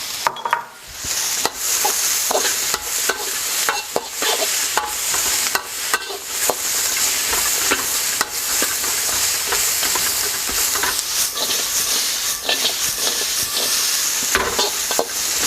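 Carrot and celery hit a hot wok for a chicken cashew stir fry, giving a loud, steady sizzle and hiss with repeated scraping stir strokes, no talking.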